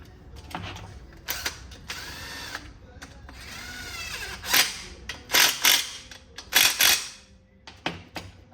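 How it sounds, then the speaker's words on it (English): A low-torque impact driver runs bolts into a 2010 GMC Acadia engine during timing chain work, giving several short ratcheting and whirring bursts between clicks and handling noise, close and loud, without speech. "I'm using this impact. It's a very low torque impact"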